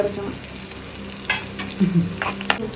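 Spices spluttering and popping in hot oil in a pan while making spicy moru curry, with a steady frying hiss and a few sharp crackles and stirring scrapes, close by with no talk.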